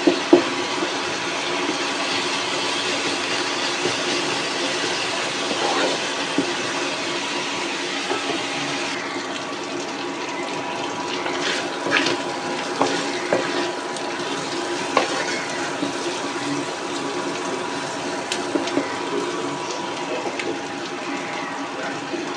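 Shrimp frying over low heat in a pan with onion, chili and garlic for a Bengali water spinach stir fry, a steady close sizzle with occasional stirring clatter running throughout, no talking.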